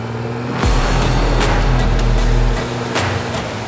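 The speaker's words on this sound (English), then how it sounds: "A truck just went through." A truck plows through water on the road to Nosara, Costa Rica, a loud close rumble that swells for about two seconds and then fades into the background hiss of the road.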